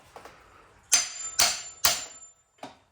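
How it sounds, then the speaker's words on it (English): A framing hammer strikes a fan clutch on a Ford 5.4L 3V engine, giving three sharp metallic blows in quick succession and then a lighter fourth tap, each ringing briefly and close. "Grab your framing hammer."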